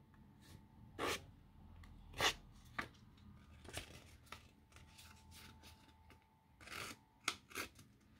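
A thread cutter snipping through paper, giving several sharp, separate crisp cuts spaced a second or so apart, close and fairly quiet with no voices.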